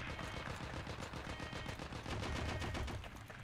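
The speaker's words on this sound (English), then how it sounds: "I hear a bunch of firing." Dense, continuous gunfire in a video game battle against Soviet forces, many overlapping automatic bursts and shots blending into a steady loud rattle throughout.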